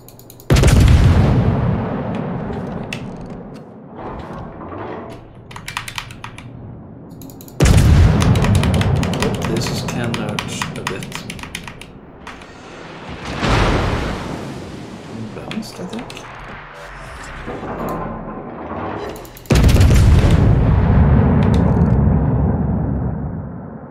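Heavy naval guns firing in World of Warships, with loud booming broadside salvos roughly every six seconds, each one rolling into a long fading rumble amid battle noise and a speaking voice.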